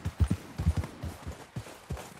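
Horse hooves clip-clop in Red Dead Redemption 2 as a rider picks a careful path downhill, a steady rhythm of soft, close thuds with no talk over it.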